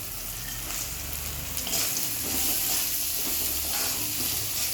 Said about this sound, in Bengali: বাদামটা ভাজা ভাজা হবে